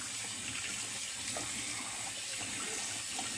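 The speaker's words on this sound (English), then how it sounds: "you ready to rinse the alum off? Rinse your face." Water runs steadily from a bathroom sink tap while a face is rinsed after an alum wetshave, a continuous close hiss with no voices.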